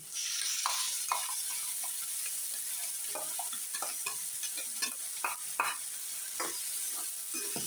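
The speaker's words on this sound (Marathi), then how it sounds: "आता आपण हे टाकून घेऊ आपलं पालकची प्युरी." Spinach puree hits a hot spice paste of garlic and ginger for palak rice and sizzles steadily at close range, with the scrape and clatter of stirring throughout.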